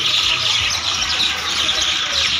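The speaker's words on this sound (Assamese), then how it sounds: "সেই বিস্কুট দিয়াৰ লগে লগে গোটেই চৰাইখিনি আহিছে" A flock of birds gathers for biscuits, chirping and tweeting busily over a steady, bright background wash, with no talking.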